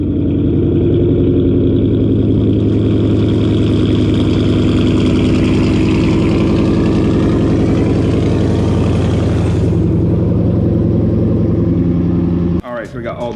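A Dodge Challenger R/T engine runs loud and steady at close range while the car is moved in a garage, the rumble holding evenly before cutting off abruptly near the end.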